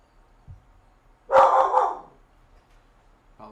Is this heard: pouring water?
no